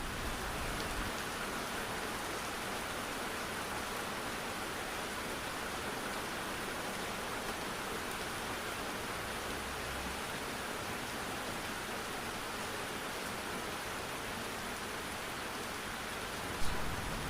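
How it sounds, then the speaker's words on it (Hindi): Steady, dense rain falls without pause, a constant broadband hiss of drops with no voices. "काफ़ी देर हो गई है, बारिश जो है बंद होने का नाम ही नहीं ले रही"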